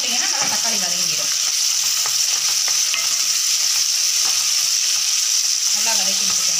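Tomatoes with salt sauté for a fish gravy, a loud continuous sizzle of frying with faint spatula scrapes and a brief murmur of voice in places.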